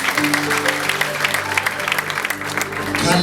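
A congregation claps during a church service: a brisk, dense patter of hands close by, mixed with crowd noise and a steady low tone.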